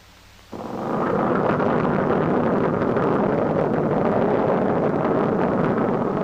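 A B-29 Superfortress piston engine fires up after a quiet moment, jumping to a loud, steady, rumbling roar that holds without letting up, close and dominant with no talk.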